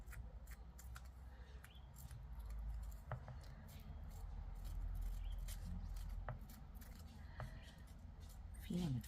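Small, faint snips of scissors cut paper while decorating tea bag pockets, scattered irregularly over a quiet room background.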